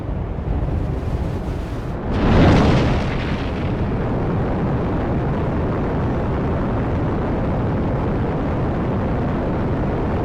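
A rocket launches in Minecraft's FTB Skies modpack: a sudden loud blast of ignition gives way to a continuous heavy roaring rumble that carries on without pause.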